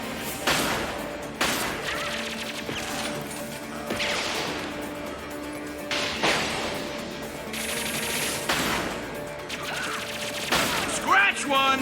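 Heavy weapon fire in the video game Mass Effect 2 on Insanity difficulty: several loud, booming blasts arrive at irregular intervals, each with a crashing tail, between sustained game sounds and tones.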